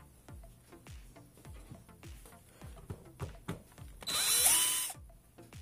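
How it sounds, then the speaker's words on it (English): Power screwdriver driving out panel screws on a Dell Inspiron 1464 laptop: a single loud, close whirring burst of about a second near the end, after a run of small clicks and taps. "you can remove other screws that are here on this panel."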